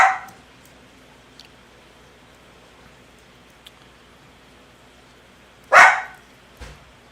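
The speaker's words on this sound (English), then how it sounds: "Sorry about the dog noises" A single loud dog bark cuts through a quiet indoor room, followed by a softer second bark and a few faint, distant yips scattered across the otherwise still background.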